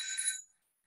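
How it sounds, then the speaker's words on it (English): A bright, high metallic ringing from an electric bell for about half a second, then it cuts off abruptly into silence. "Switch on the electric bell."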